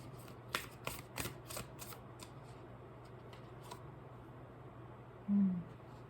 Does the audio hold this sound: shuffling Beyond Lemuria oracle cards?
yes